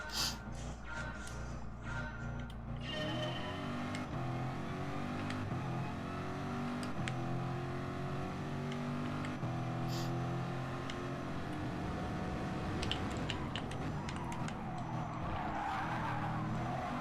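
Gr3 Corvette race car in GT Sport, engine droning steadily with tire squeal and skidding across the Austria circuit run, loud and continuous throughout, rising into harsher noise near the end.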